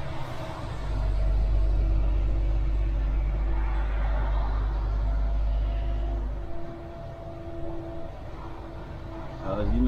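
A car driving out of Reims city centre onto open road, a loud steady engine and road rumble close by that eases off partway through, with no talk over it.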